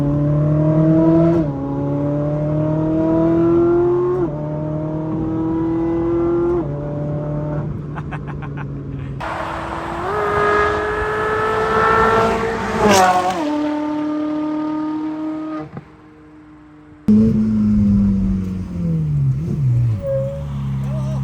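A Novitec-tuned Ferrari 458 Speciale engine on the autobahn, loud close revving that rises in pitch through repeated gear changes, each shift dropping the tone before it climbs again, with one brief lull near the end.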